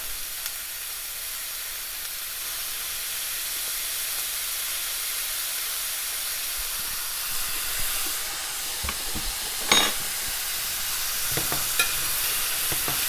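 Pork simmers with apple cider vinegar in a pan, producing a soft, continuous hiss and sizzle with a few brief scrapes of stirring near the end, fairly quiet and close.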